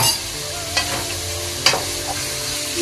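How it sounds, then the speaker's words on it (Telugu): Food frying in a pan with salt and turmeric gives a continuous sizzle, broken by a few scraping knocks of a spatula stirring it. "బాగా మనం ఫ్రై చేసుకుంటే టేస్ట్ బాగుంటుంది"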